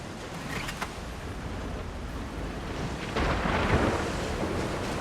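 A thunderstorm in The Last of Us Part II rumbles as steady rain and wind, a heavier roll of thunder building midway and holding loud to the end, with no speech.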